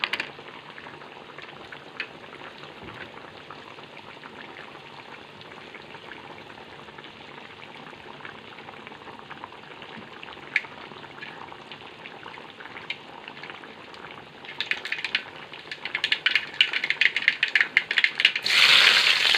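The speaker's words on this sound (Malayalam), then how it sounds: "കടുക് താളിക്കും വെളിച്ചെണ്ണ ഒഴിച്ചിട്ടുണ്ട് ചൂടായിരുന്നു കടുകിടുന്നു" Mustard seeds spluttering in hot coconut oil in a pan, a steady fine crackle that swells into louder, denser popping and sizzling near the end, no talking.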